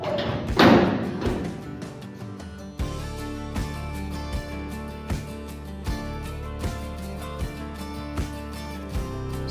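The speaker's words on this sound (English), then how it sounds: "go ahead and cycle through your tailgate and check for clearances" The tailgate of a 1967-72 GM C10 truck, fitted with a gate saver assist, is swung open and shut. A sharp clatter comes first, then a string of dull, evenly spaced thuds and knocks close by.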